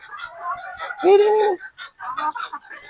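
Pullets clucking at a game farm, close by and fairly loud, in short bursts with brief pauses and a longer drawn-out call partway through, mixed with someone talking.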